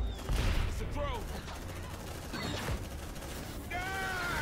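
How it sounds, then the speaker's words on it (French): Suppressive gunfire from the video game Aliens: Dark Descent comes as bursts of rapid shots over steady game ambience, with mechanical clicks and a voice talking through it. "je vais faire un tir de suppression"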